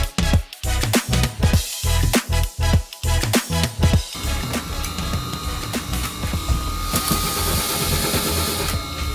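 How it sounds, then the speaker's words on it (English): A factory lathe spins a new saucepan while a sharp blade cuts concentric rings into it. Rhythmic mechanical thumps come first, then settle into a dense, continuous whirring grind that stays loud throughout. "Rapid rotation and a sharp blade work together to expose the concentric rings on the new saucepan."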